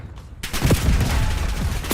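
Heavy gunfire bursts out suddenly in a video game, a loud, sustained barrage of overlapping shots and booms.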